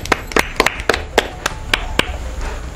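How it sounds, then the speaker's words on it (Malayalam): A small group claps for a contestant who has just answered correctly in an Independence Day quiz, giving a sparse, uneven run of separate hand claps that fade out after about two seconds. "എല്ലാവരും മിൻഹയ്ക്ക് ഒരു ക്ലാപ്പ് കൊടുക്കൂ."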